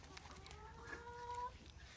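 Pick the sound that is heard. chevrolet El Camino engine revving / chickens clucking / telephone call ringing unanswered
chickens clucking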